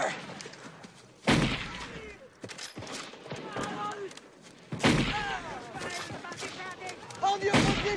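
Rifle shots in a war film, two or three sharp loud cracks spaced seconds apart over a busy background of scuffling and distant noise.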